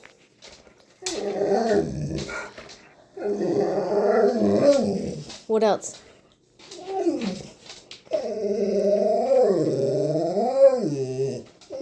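A dog growls, whines and yips in drawn-out, wavering bursts, close and fairly loud, with short gaps between them and a brief voice heard once.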